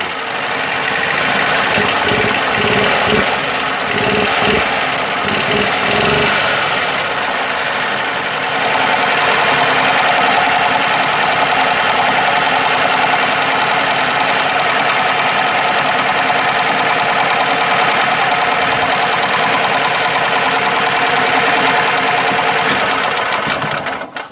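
A Yamaha G9 golf cart engine idles steadily for the whole stretch, a constant mechanical hum and rattle with no change in pace.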